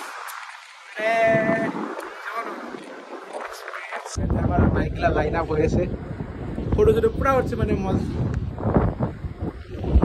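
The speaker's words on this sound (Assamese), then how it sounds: "এতিয়া মানে কি বতাহ দি আছে" Gusty wind buffets the microphone in heavy rumbling bursts while people talk over it outdoors on a narrow road in the Mizo Hills.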